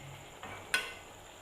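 Chicken curry bubbling on high heat in a pot, a quiet steady simmer with a brief soft stir and a sharper clink or sizzle burst near the end.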